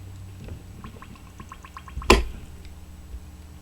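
Ink bubbles and gurgles while an Asvine V169 skeleton fountain pen is filled, a run of small close clicking pops ending in one sharp louder bubble burst, followed by faint quiet ticks.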